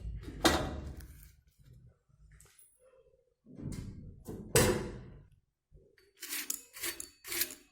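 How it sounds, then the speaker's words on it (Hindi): Several crisp, crackly snaps as a thin crispy moong dal crepe is broken apart by hand, in short bursts with brief pauses between. "अब मैं आपको दिखाती हूँ ये कितना क्रिस्पी बना है।"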